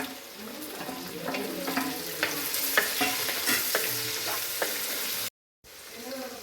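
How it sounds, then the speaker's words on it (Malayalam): Chopped onions sizzle and fry in a pan for beef curry, with a spoon stirring and scraping steadily and close by, interrupted by a brief gap near the end. "ഇനി ഞാൻ ഇതിലേക്ക് അരിഞ്ഞ് വെച്ചിരിക്കുന്ന സവാളയൊക്കെ ഒന്ന് ഇട്ട് കൊടുക്കുക"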